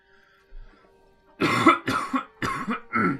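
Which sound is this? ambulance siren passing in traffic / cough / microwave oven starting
cough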